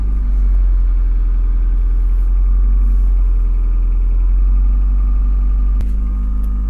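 A Honda Accord engine idles slightly high on a warm morning, a steady, loud low rumble with an even hum that holds throughout, with one faint click near the end.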